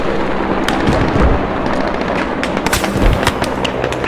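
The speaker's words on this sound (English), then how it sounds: "Oh shit, that's a nade!" A frag grenade blast in an anti-tank squad shooter game, a loud burst amid continuous battlefield noise with scattered sharp cracks and gunfire, close and intense throughout.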